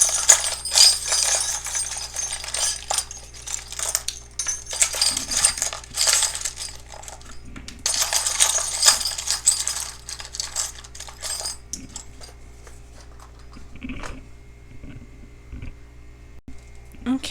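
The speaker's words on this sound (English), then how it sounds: "I just shuffle around until I grab some charms." Small metal charms clink and rattle as they are shuffled around in a box, coming in bursts of jingling with quieter pauses between, close to the listener.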